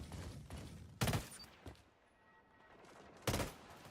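Gunfire in Valorant: two sharp, close shots about two seconds apart over quiet background, with a few fainter pops before them.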